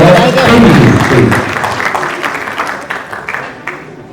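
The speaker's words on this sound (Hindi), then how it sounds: "मैं चाहता हूं कि जोरदार तालियों से उनका वेलकम करेंगे" Loud applause at the Nelson Mandela Nobel Peace Award 2021 ceremony as performers are welcomed. The clapping and crowd noise swell over the first second and a half, then thin into scattered individual claps.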